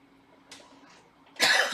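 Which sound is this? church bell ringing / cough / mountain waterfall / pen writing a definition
cough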